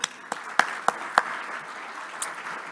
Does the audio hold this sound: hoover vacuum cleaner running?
no